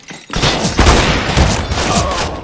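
Sniper rifle fire in the video game CS:GO, a loud booming shot with a dense rumbling tail of further gunfire and game noise lasting a couple of seconds.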